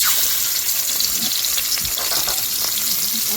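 Fish head, likely silver carp, frying in hot oil in a wok, giving a steady, close, bright sizzle and crackle that runs without a break, with a few soft stirring bumps and no talk.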